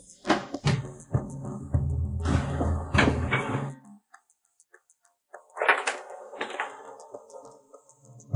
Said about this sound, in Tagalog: hintayin muna nating mabuksan ang pinto bago maghusga